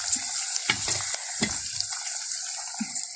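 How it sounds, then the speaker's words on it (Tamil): Onions frying with crushed garlic in a pan in a village kitchen: a steady broadband sizzle runs throughout, broken by a few stirring scrapes near the start, close and fairly loud with no talking. "இப்போ இந்த வெங்காயத்தோட இடித்த உள்ளி இடித்து போட்டால் நல்ல வாசமாக இருக்கும்."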